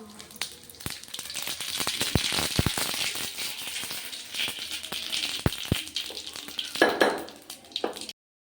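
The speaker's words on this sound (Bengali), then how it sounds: "গরম হয়ে গেছে, জিরে ও সর্ষে ফোড়ন দেব" Cumin and mustard seeds spattering in hot oil for a spring onion curry, a dense crackling sizzle with sharp pops throughout, steady and close.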